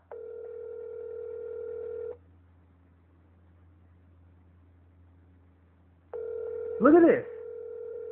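A call to 911 rings out twice, each steady tone lasting about two seconds with a silent pause between them. A brief spoken remark overlaps the second ring.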